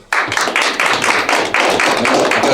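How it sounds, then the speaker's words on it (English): Audience applause at a Kay County OK2A gathering: dense, loud, steady clapping from a crowd that starts abruptly and keeps going without a break. "Just give him a round of applause."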